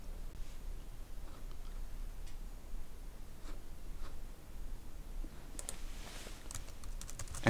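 Someone types on a computer keyboard in scattered, soft keystrokes with gaps between them, ending in a quicker burst of clicks, all close and faint over a low background hiss.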